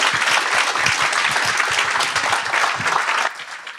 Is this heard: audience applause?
yes